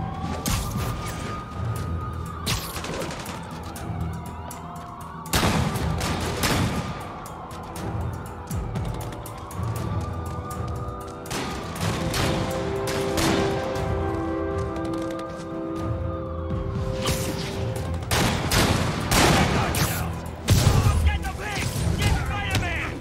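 Sniper gunfire aimed at police officers in Marvel's Spider-Man Remastered: sharp shots ring out in scattered bursts over a steady wailing police siren and a busy city backdrop.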